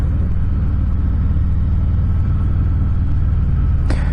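A blacked-out 2020 Harley-Davidson Softail Fat Boy 114 motorcycle idles with a steady, loud, low, throbbing engine rumble close by, and a brief sharper sound comes near the end.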